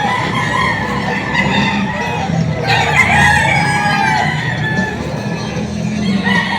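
Several Golden Boy and Gilmore roosters crow loudly and continuously at a poultry market in Padre Garcia, Batangas, their calls overlapping, with clucking hens throughout.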